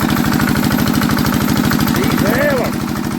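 An old Enfield SV1 diesel engine cold-started after being moved runs with a loud, close, rapid and steady knocking chug that holds even throughout, while a brief high rising voice-like tone rises over it near the end.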